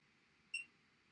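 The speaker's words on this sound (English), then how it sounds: "as you could hear the beep on the OCS" A single short electronic beep sounds as an OCS controller starts up, a clear tone against a quiet background hum.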